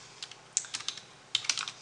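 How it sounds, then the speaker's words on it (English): Etsy listing tags are typed on a computer keyboard in a few quick, light keystrokes, close and quiet, with a short pause between two bursts. "So I would type in popcorn,"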